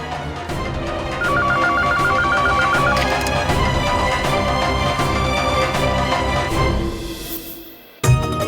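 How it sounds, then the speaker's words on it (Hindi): A telephone rings in an empty room, with repeated electronic ring bursts over dramatic background music. The ringing carries on for several seconds and then cuts out abruptly. "फोन बज रहा है, कोई है नहीं यहाँ।"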